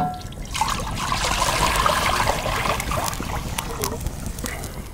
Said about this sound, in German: Geben unser Wasser dazu.